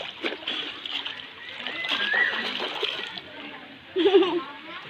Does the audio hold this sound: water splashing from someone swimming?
yes